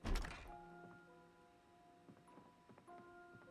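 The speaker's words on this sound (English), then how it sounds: "Yeah, I do hear more banging." Zombies bang with dull, hollow thuds in the video game Project Zomboid: one heavy knock up front, then a few softer, irregular thumps later, over steady tonal game ambience.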